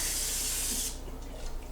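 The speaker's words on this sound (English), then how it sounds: "I just sprayed her." A single sustained hiss of a spray bottle misting for about a second in a kitchen, close by, then cutting off into quiet room tone.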